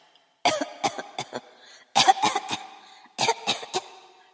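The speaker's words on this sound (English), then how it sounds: "coughing uncontrollably" Uncontrollable coughing in three separate fits, each a rapid cluster of harsh, close coughs separated by short silent pauses.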